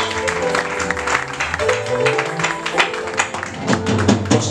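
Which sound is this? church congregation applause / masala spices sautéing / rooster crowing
church congregation applause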